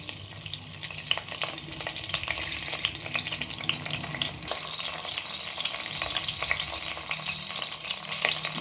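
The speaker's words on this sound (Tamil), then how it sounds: "இப்போ ஒரு 2 கொத்து கருவேப்பிலையை இதோட சேர்த்திக்கலாம்." Curry leaves added to hot oil for a Kerala-style ulli chicken curry crackle and sizzle steadily, with occasional spatters and stirring scrapes, close and continuous without talk.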